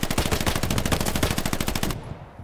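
Rapid automatic gunfire from the World War II shooter Hell Let Loose, a loud, steady stream of close shots for about two seconds that cuts off abruptly, leaving quieter background rumble.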